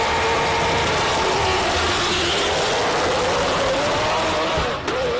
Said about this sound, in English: that is insanely loud, that car